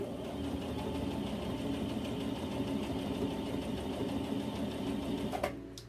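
A sewing machine runs steadily for several seconds while stitching a T-shirt into a vest, with a dense, even mechanical whir at constant speed that stops abruptly near the end.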